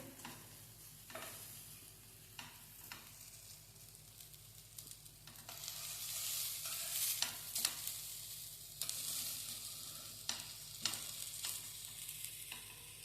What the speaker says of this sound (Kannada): ಅದನ್ನ ಈಗ ರವೆ ಫ್ರೈ ಮಾಡ್ಕೊಳ್ತಾ ಇದ್ದೆ